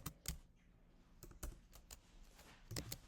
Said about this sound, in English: we're going to type this into ChatGPT